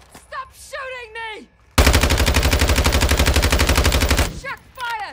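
Rapid automatic gunfire in the video game Modern Warfare 2, a dense, loud burst of repeated shots lasting about two and a half seconds, with voices speaking before and after it.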